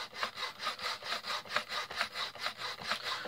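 Steady back-and-forth scraping of abrasive on wood, about three strokes per second, close and rhythmic with no talking.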